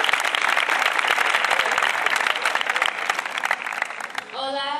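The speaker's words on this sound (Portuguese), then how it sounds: "Un aplauso para Ali." An audience at a school exchange welcome event applauds with dense, continuous clapping that fills the room before fading out as a voice begins to speak.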